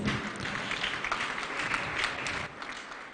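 Church congregation clapping hands together at a holy communion service, a dense, steady round of applause that tapers off near the end.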